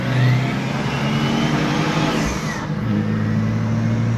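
A BMW E36 325 TDS diesel engine idles loudly and close, holding a steady low drone with a slight rise and fall in pitch, no one speaking.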